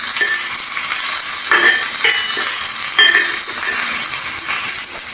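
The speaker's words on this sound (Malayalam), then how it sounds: "ഇനി നമുക്കൊന്ന് ഇളക്കി കൊടുക്കാം." Sliced onions fry in a pan with a loud, continuous sizzle while a spoon stirs through them, scraping and clinking lightly against the metal every second or so.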